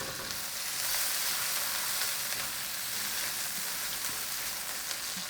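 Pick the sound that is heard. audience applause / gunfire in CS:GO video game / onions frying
onions frying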